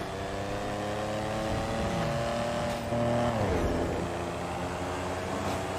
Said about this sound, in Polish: Słaby ten radiowóz